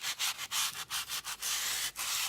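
An old nail brush scrubbing along a rough cut paper edge, giving about nine quick, close rasping strokes in steady rhythm with no talk.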